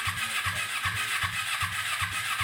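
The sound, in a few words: race mower engine running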